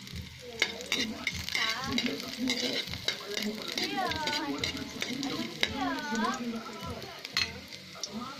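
Garlic being stirred in a hot frying pan, a steady sizzle with scraping spatula strokes, while a voice talks over it throughout.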